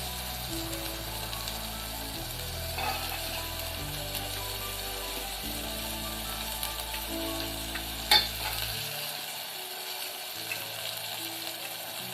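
Broad beans and vegetables sauté in a pan with a steady, close frying hiss and a single sharp clank of the utensil about two-thirds through, with faint low rumbles underneath and no voices.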